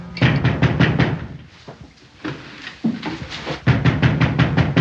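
Rapid, loud knocking on a door comes in quick bursts, pauses with a few scattered thumps, then resumes in another fast run.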